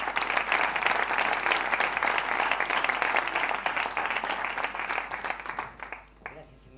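Audience applause at a women's football debate during a festival, a dense steady patter of many hands that carries on loudly before tapering off sharply near the end.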